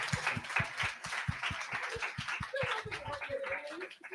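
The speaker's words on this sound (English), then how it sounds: "let's give a big round of applause to all the speakers" A small audience at an environmental justice and health session on South Baltimore claps for the panel speakers, with a modest, fairly even run of individual claps that fades toward the end.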